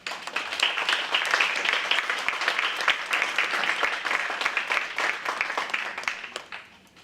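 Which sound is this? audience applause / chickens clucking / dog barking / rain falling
audience applause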